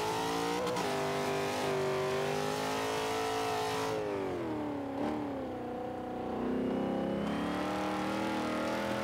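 A 1995 Ford Mustang in the Forza 5 racing game, its engine revving loud and continuous with pitch climbing and falling through gear changes as it races a lap, without any talk.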